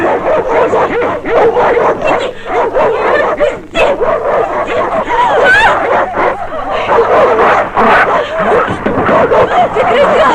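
Several dogs barking and yelping loudly and continuously, set loose to attack someone in a dramatic scene, with shouting voices mixed in throughout.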